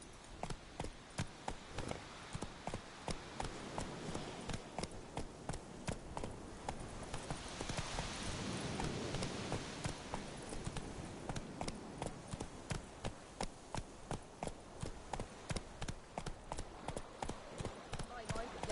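Horse galloping in a PS4 video game, a fast steady run of close clip-clop hoofbeats with wooden knocks that continues for the whole stretch, under a faint voice and some background game sound.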